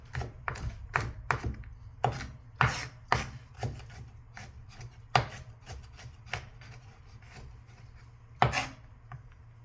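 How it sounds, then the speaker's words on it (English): A knife chops garlic rapidly on a cutting board, irregular quick taps, some louder strikes, with a low hum underneath and no talking. "gonna keep chopping it up nice and fine"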